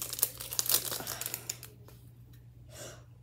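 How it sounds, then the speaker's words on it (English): Crinkling and tearing of a foil pack of Premier League 2022-23 trading cards being opened, close crackling bursts that taper into quieter rustles. "We got the next pack going."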